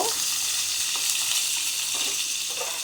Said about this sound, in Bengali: একটু চাপা দিয়ে দিয়ে ভেজে হয়ে গেছে